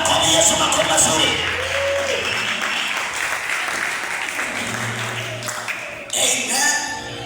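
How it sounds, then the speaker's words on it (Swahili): A church congregation clapping for Jesus during a Sunday service: dense, sustained applause from a full room, close and loud, with voices mixed in and a brief lull near the end before the clapping picks up again. "Bwana mwapigie makofi Yesu, makofi mazuri."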